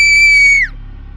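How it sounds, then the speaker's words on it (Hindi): A loud, shrill scream from a girl in a cave, used as a sound effect in a Hindi horror audio story. It holds steady at a high pitch and then breaks off abruptly with a falling slide. "तभी उसे अनु की चीख सुनाई दी।"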